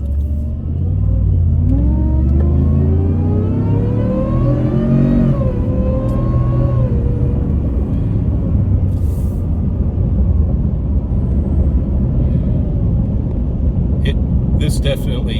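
An 805-horsepower truck engine rumbles loudly and revs up with a rising, then falling pitch, followed by a steady heavy drone, with a person talking over it.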